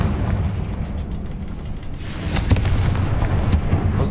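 A Confringo spell explodes in the video game Hogwarts Legacy, a booming burst with sharp crackling rising out of dense, continuous game noise.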